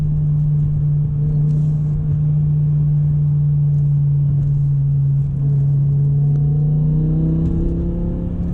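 A BMW M6 with a V10 engine and manual gearbox drones through its exhaust while driving, a loud, steady low hum that swells and rises slightly in pitch toward the end, with no talking.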